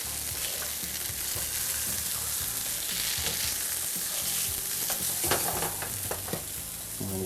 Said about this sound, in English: Get our salmon flipped over.